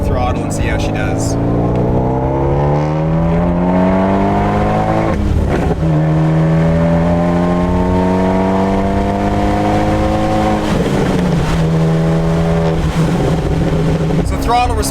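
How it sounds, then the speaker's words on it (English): A big-turbo built Abarth 124 engine pulls hard under throttle, its loud, steady note climbing through repeated gear sweeps, dropping briefly at shifts around a third and two-thirds of the way through. "Let's give it a little bit of throttle and see how she does."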